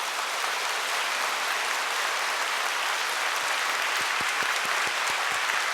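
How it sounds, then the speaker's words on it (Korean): A church congregation claps steadily in applause of thanks to God during a Korean sermon, a dense, continuous wash of hands filling the room, with a few sharper nearby claps standing out toward the end. "우리 하나님께 감사의 박수 올려 돌리십시오"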